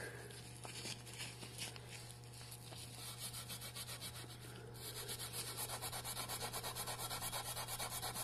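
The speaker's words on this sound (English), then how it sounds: "So I'm using a lot of pressure with the Scotch-Brite pad and the sponge" A Scotch-Brite pad and sponge are scrubbed hard against an aluminum wheel, giving a close, steady rhythmic rubbing that grows louder and more regular toward the end over a constant low hum.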